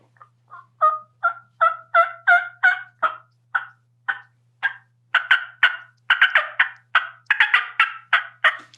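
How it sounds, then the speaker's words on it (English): A hen turkey gives a cutting call, a long run of sharp, loud, irregular clucks and yelps that speeds into rapid clusters, heard alone over a faint low hum. "That's a hen just cutting."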